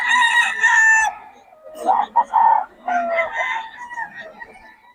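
A rooster crows loudly and close, followed by a second drawn-out crow with clucking; someone talks faintly in the background.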